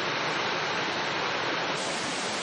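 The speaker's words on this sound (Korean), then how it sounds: "안으로는 시커먼 흙탕물이 폭포수처럼 쏟아집니다." Dark muddy dredged water pours like a waterfall into the enclosure of a stone-walled artificial island in Masan Bay, a steady, loud, broadband roar of rushing water with no break throughout.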